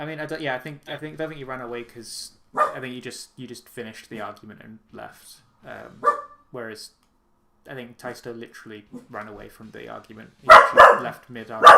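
Dog barking in the background of a room, a few short yelps mostly near the end, under and after steady conversational speech.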